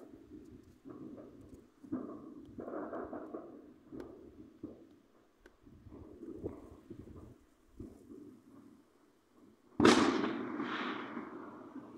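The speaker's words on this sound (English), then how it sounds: "How much fireworks do they even have?" A single sharp New Year's firework bang near the end, followed by crackling bursts, after several seconds of low rumbling and muffled popping in the distance.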